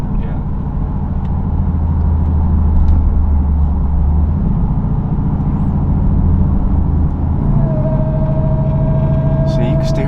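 Supercharged 2023 Dodge Durango Hellcat with a muffler delete, its engine rumbling loudly and steadily with supercharger whine throughout, heard from inside the vehicle, while people talk over it.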